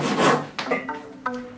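A Silky Gomtaro fine-tooth hand saw cuts through a tree branch, making a few quick rasping strokes close by, the first long and loud, followed by shorter, lighter pulls.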